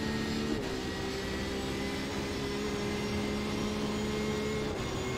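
A Porsche 911 RSR race car engine in iRacing at the Nürburgring, a steady high-pitched drone with a brief pitch dip near the start as it shifts up, then holding its tone, no talking.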